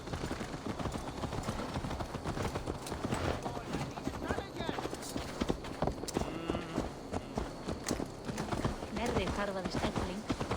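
Steady rhythmic clip-clop of a horse's hooves in the video game Assassin's Creed Valhalla, heard throughout under frequent spoken dialogue, with occasional livestock sounds in the background.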